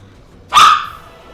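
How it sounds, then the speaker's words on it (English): A dog gives one loud, sharp bark close by, which then fades out quickly. "I would like him to not bark like that."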